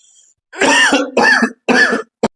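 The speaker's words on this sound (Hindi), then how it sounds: "खांसी हो गई थी, पता नहीं क्या हो गया।" Three loud, close coughs from a man in quick succession, harsh and throaty, followed by a short final catch of breath.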